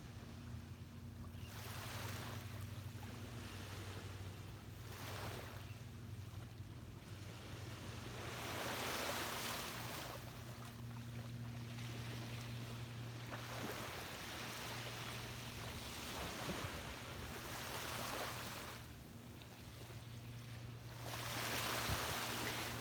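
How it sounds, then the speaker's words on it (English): Ocean waves wash onto a beach at sunrise in slow repeating swells, a steady surf roar rising and falling with some wind noise and no voices. "soak in the colors and the sounds of the waves"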